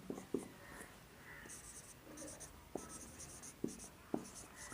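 Chalk or marker writing numbers on a board during a Class 6 maths lesson, with short scratchy strokes and sharp taps landing in irregular bursts, faint and close, with no voices over it.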